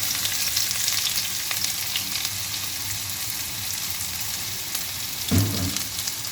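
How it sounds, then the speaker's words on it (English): Onion, garlic and scallions fry in oil in a pan, giving a dense, even crackling sizzle at close range with one brief louder knock near the end. "Now add the onion, the garlic,"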